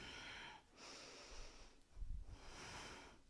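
Heavy rhythmic breaths during a weighted yoga workout, with two long airy exhales and a lower, rougher gust near the end, close and fairly quiet, no talking.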